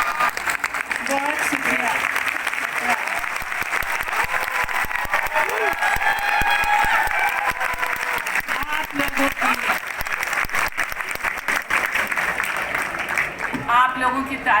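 Audience applause and cheering at an Urdu women's mushaira at Jashne Rekhta, a steady loud crowd roar of clapping filling the whole stretch, with a poet's voice and speech heard over it and a brief thanks near the end.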